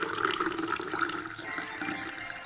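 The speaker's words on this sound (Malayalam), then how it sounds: "നമുക്കിനി ഇതൊരു ഗ്ലാസ്സിലേക്ക് ഒഴിക്കാം." Fresh homemade carrot juice poured into a glass, a short gurgling liquid stream with a rising fill tone, close and steady with no talking.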